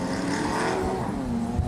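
Autocross car at Anaheim Stadium sweeping through a long curve, a steady loud engine drone with sustained tonal whine and faint tire scrub, continuous throughout.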